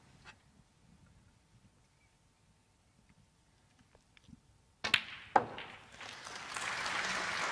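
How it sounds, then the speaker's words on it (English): A snooker crowd at the 2017 Riga Masters semifinal bursts into applause after near silence, sharp first claps building into a sustained, moderately loud ovation. "Applause for frame ball."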